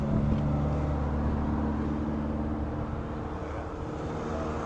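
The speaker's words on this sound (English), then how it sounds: "It got really windy, so I did switch to a wind mic." Steady wind rushing and buffeting outdoors at a rod run car show in Pigeon Forge, Tennessee, a constant low roar with no pauses or voices.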